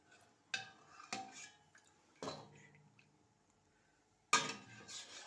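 A spoon clinks and scrapes against a pot while lokum mixture with molasses syrup is stirred, giving several quiet, separate knocks with soft wet sounds between them.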